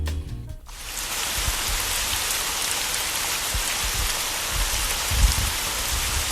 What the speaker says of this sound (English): It's actually raining outside right now.